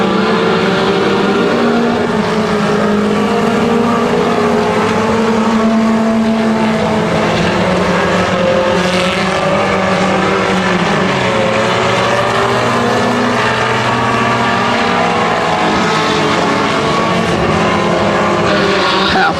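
Race cars circle a speedway, engines droning and rising and falling in pitch as they pass, a loud continuous roar of several cars throughout.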